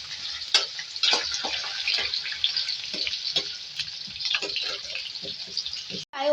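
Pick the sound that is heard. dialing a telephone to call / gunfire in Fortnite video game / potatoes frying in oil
potatoes frying in oil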